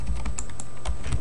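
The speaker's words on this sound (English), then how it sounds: "For some reason my keyboard's shaking." Quick bursts of keystrokes clatter on a computer keyboard during a Star Wars: The Old Republic session, close and crisp, several irregular taps in a short flurry.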